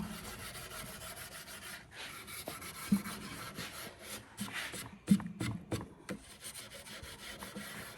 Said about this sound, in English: You can hear the rubbing of the steel wool with the wood.